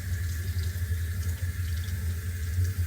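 Water runs steadily from a tap while hands are washed with soap, a continuous hissing splash with a low hum underneath, no talking.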